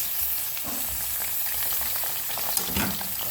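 Pork frying in a pan with salted shrimp and tomato, a steady close sizzle and crackle with occasional stirring scrapes, alone with no talking.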